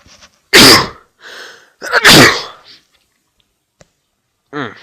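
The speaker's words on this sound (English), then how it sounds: "Sorry, I had to sneeze there." Two loud close sneezes from one person in a quiet room, each a sharp burst with a brief lead-in breath, followed by faint clicks and a short voiced sound at the end.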